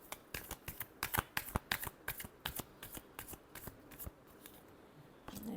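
Tarot cards are shuffled by hand in a quick series of sharp, crisp riffles and slaps, close and fairly quiet, with an uneven rhythm and no talking.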